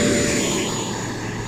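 An E-Flite Viper radio-controlled jet flying on a hot summer day gives a steady, loud whooshing engine roar with a faint high whine, close and continuous, no talking over it.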